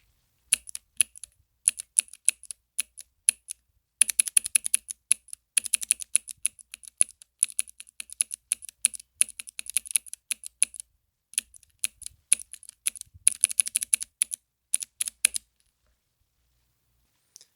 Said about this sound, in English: This is what a Cherry MX Blue sounds like.